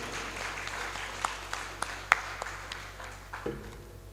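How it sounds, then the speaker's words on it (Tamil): Faint, sparse audience applause at an indoor speech event, with scattered individual claps popping out over a quiet room hum. "உங்களது பலத்த கரகோஷத்தை எழுப்பும்படி கேட்டுக்கொள்கிறோம்."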